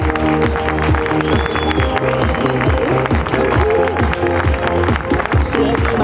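Applause from a crowd at a Catalan municipal election candidacy launch, greeting the Greens' number-two candidate. Steady clapping runs the full length beneath loud rhythmic music, with a voice over it.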